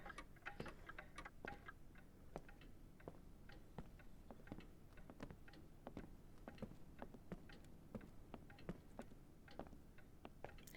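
Many cuckoo clocks ticking together in a room in Professor Layton and the Lost Future, a dense, steady patter of overlapping clicks at moderate level with no talk.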